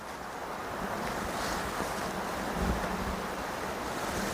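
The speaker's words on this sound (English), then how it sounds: "The wind is blowing very high, and it's supposed to be like this all day" Strong wind rushes through a garden in a steady, dense roar that buffets the microphone with gusty low rumbles, and no voices are heard.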